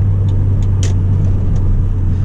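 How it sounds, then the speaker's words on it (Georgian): The turbocharged engine of a 1998 Volvo S70 T5 hums with a steady, deep drone heard from inside the car, joined by a few faint ticks and clicks. "მინდა რომ გაუჩუმდე და უსმინო ამ მანქანის ძრავს, იმდენად მაგარი ძრავი აქვს"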